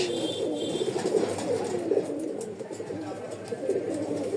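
Pigeons at a breeder's loft, including Giribaz and other fancy breeds, coo continuously in a low, rolling chorus close by, with faint chirps and a murmur of voices in the background.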